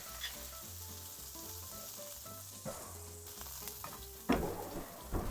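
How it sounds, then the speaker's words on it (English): Chicken breast sizzles steadily in a hot pan, a constant crackling hiss with a brief louder flare of spitting oil near the end. "So this sizzle is exactly what you want to hear from the chicken."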